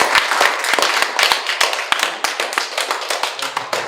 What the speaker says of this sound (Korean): 다시 한번 위원장님께 박수